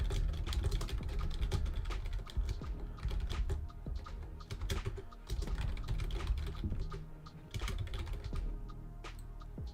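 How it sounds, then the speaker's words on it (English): Steady, rapid typing on a computer keyboard, close and fairly loud, with dense irregular key clicks and clacks running continuously and no talk. "I have to type the poll with an open mic"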